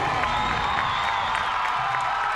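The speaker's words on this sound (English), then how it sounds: "a lot of applause for Mike Brookshaw" A crowd at a 2012 WIAA Division 3 high school baseball semifinal, Prescott vs Oshkosh Lourdes/Valley Christian, applauds and cheers at a distance, a steady diffuse wash of clapping and voices.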